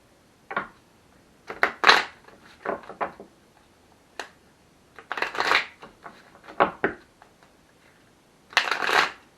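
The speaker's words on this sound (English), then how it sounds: "I'm going to shuffle the cards" Tarot cards being shuffled in several separate bursts of crisp riffling and flicking, close and fairly quiet, with short pauses between each shuffle and no talking.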